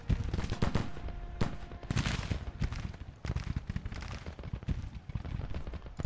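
Musket fire from a Civil War battle in a strategy video game crackles in dense, continuous volleys, with many overlapping shots near and far forming a steady rolling clatter.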